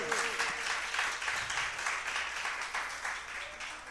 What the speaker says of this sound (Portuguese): Vamos aplaudir ao Senhor, pode aplaudir ao Senhor